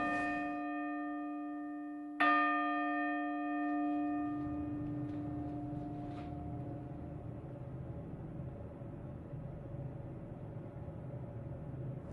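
A newly cast and finely tuned church bell for St James Garlickhythe is struck once. Its bright, chord-like ring of overtones sounds close and clear, then slowly decays into a long hum with a faint background rumble.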